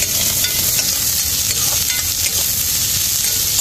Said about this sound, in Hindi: थोड़ा सरसों डाल दिए हैं, अब देखिए इसमें प्याज मिर्चा वो सब भूनने के बाद